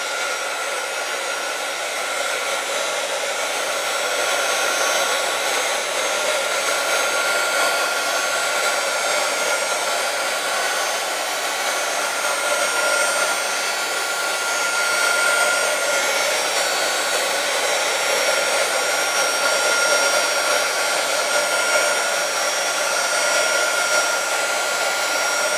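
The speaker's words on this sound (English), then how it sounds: "you want to keep your heat gun moving so that it doesn't over dry out a certain section" Heat gun blowing a steady, loud, continuous airflow roar as it dries paint on a scrap wood craft piece, running nearly unchanged for the whole stretch with no talking.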